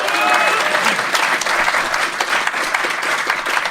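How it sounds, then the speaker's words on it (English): Audience applause during a live show at Gen Con 2017: a room of people claps steadily and densely for a few seconds, fairly close and loud, with scattered voices underneath. "Round of applause for Anthony."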